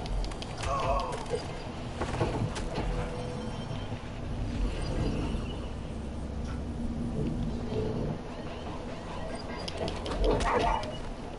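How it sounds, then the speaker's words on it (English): A guard dog in the video game Watch Dogs 2 barks and whimpers in short, faint bursts amid game noise, while people talk over it. "I didn't know that was a guard dog."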